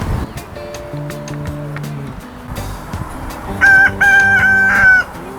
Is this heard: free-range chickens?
yes